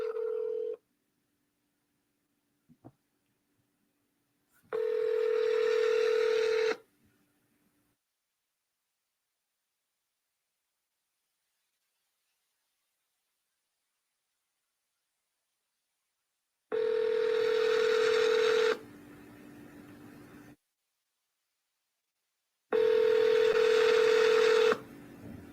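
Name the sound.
telephone dialing tones and busy signal on a phone call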